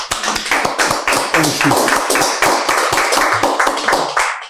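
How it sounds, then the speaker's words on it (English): An audience gives a round of applause at a Blue Economy TV launch, a steady stream of crisp, close, fairly loud claps that hold evenly for several seconds before cutting off. "let's give him a round of applause, please"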